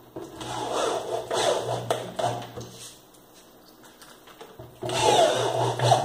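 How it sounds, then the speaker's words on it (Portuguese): Nightstand parts being screwed together with a powered driver, several whirring bursts of a few seconds each, separated by quieter gaps with handling noises, close by. "Agora a gente vai parafusar aqui."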